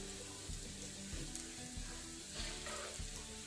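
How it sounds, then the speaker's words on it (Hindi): Aloo tikki potato patties sizzle steadily in oil in a pan on low heat, a continuous close crackling fry with no voices. "3 मिनट हो चुके हैं इस साइड को भी फ्राई करते हुए।"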